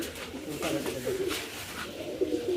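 A female Kalanka pigeon and its flockmates give soft, low, rolling coos at close range, a few short phrases against a muffled background with possible faint talk.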